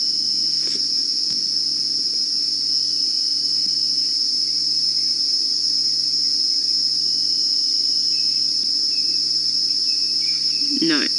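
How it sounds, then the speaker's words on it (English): Crickets chirp at night on an African safari, a loud, continuous high trilling that fills the scene. A faint low hum runs beneath it and a brief rustle comes near the end. "No, I can just hear crickets making lots of noise."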